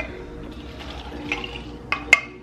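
Four ounces of water pour into a cup full of ice for an iced cold brew drink, a soft trickling fill with a few sharp ice clinks near the end, close and unaccompanied by speech.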